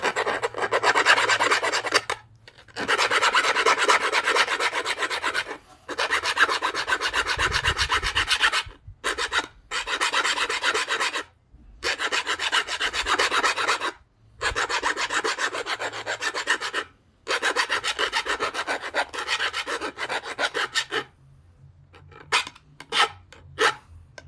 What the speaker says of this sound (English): Let's go ahead and continue the sharpening.